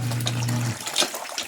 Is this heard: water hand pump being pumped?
yes